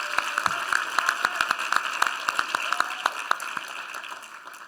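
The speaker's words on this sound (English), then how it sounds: "Please give her another round of applause." Audience applause at an award ceremony during a unity luncheon, a steady patter of many hands clapping with sharp individual claps standing out, moderately loud and continuous for several seconds with no speech.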